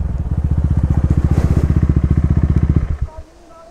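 Modified KTM Duke 390 motorcycle engine running close by with a steady, loud pulsing thump on a mountain road, cutting off near the end and leaving quieter background sound.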